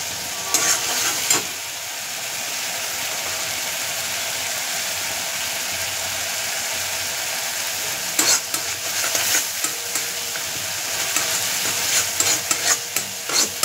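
Spices for ghugni are stir-fried in oil with a steady close sizzle throughout, broken by bursts of rattling, scraping stirring strokes near the start, in the middle and toward the end, with no talking.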